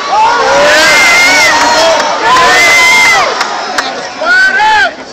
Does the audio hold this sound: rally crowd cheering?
yes